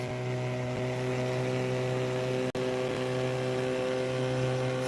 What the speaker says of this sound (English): Sounds like this dude's got a weed whacker on for an engine.